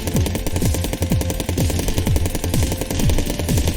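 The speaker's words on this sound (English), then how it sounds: "Even though I'm using the machine gun in essence." Rapid, steady machine gun fire from Cally's Trials, a 2D platformer, loud and continuous with even repeating bursts, accompanied by background game music and no talking.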